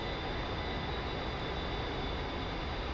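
Steady jet engine roar of an A-10C in the DCS World flight simulator, held at high throttle: a constant, even, faint drone with no change in pitch or level.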